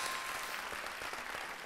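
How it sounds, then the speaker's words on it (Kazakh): Applause from a studio audience on a Kazakh quiz show, a dense steady wash of clapping without pause for the brief moment. "шапалақ құрмет қошеметтеріңіз"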